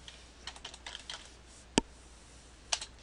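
Keys tap on a computer keyboard in a short burst of soft clicks, then two sharper isolated keystrokes follow, close and clear with no voice over them.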